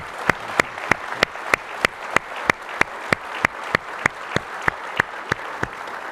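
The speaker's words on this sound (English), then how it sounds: "So can I get a huge round of applause?" Clapping at a conference welcome keynote, heard as an evenly spaced run of sharp, loud claps at a quick steady beat for several seconds.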